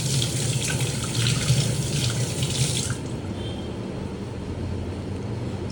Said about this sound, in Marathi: सो एकदा मी विचार करते हात धुवून घेते.